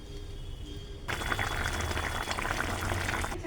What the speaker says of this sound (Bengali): একবার একটু নাড়িয়ে একটু ফুটে উঠলেই আমি নামিয়ে নেব